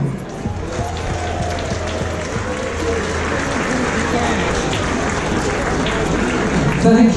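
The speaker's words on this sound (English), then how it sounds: "a cheer and a round of applause for Captain Paul Brown" Audience aboard the P&O Britannia cruise ship cheering and applauding for the captain, a steady dense crowd roar that swells slightly toward the end, with voices mixed in.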